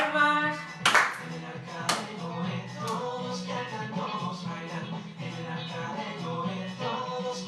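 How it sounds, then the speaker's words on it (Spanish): Rhythmic hand clapping keeps time alongside upbeat music, with a couple of sharper claps standing out near the start. "Todos con las palmas."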